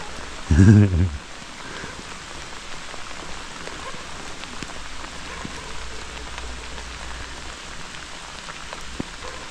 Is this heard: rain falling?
yes